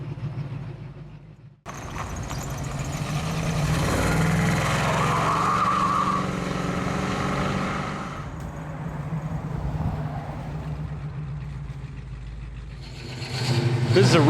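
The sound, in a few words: 1965 Pontiac GTO engine while driving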